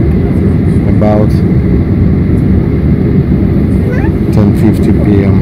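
Steady, loud broadband roar fills an Alaska Airlines jet cabin on takeoff from Seattle to San Jose, a heavy continuous engine rumble with faint tonal whines rising above it.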